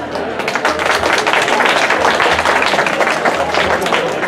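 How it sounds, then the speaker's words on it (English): An audience at a Kết Đoàn community event claps steadily, a dense, continuous round of applause from a crowd filling the room at even loudness throughout. "Please give yourself a round of applause."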